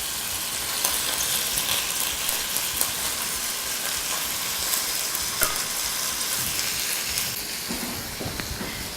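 Quartered mushrooms sear in a hot pan with a steady, close sizzle and crackle that holds throughout, broken by a few louder pops and stirring scrapes.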